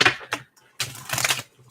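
Tarot cards shuffled in quick riffling bursts, a short burst followed by a longer flurry of crisp papery slaps, close and moderately loud with no voices.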